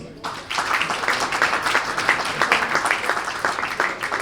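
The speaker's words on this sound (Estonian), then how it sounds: "Teeme sooja aplausi Martin Karis" Warm applause at an Estonian tennis association year-end awards ceremony for coach Martin Karis, a steady, dense crowd clapping that starts suddenly and carries on evenly at moderate loudness.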